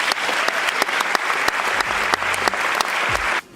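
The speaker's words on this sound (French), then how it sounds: "Je vous demande d'applaudir très chaleureusement Jean Ziegler et Régis Debray" Audience at a library literary event applauds warmly, a steady wash of clapping with a few sharp louder claps standing out, stopping abruptly near the end.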